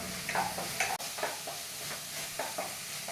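Onions stirred and sautéed on the stove for an egg thoran, a steady close sizzle broken by repeated scraping strokes of a spoon against the pan.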